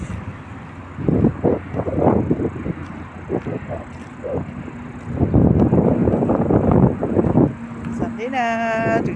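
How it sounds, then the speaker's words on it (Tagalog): Gusts of strong outdoor wind hit the microphone in irregular bursts of loud rumbling, with a person talking throughout and a short rising tone near the end. "Sobrang hangin"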